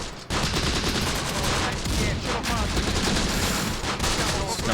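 Gunfire in the Close Combat: The Bloody First wargame, a dense, loud fusillade of overlapping rifle and machine-gun bursts rattling continuously with scarcely a pause.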